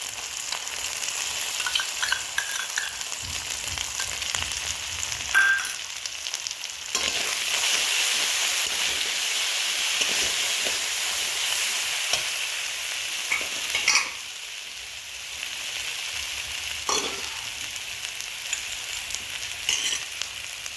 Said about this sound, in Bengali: এদিকে মশলাগুলো ভাজা ভাজা হয়ে গেছে। এর মধ্যে এই পেস্টটা দিয়ে ভালো করে কষিয়ে নেব।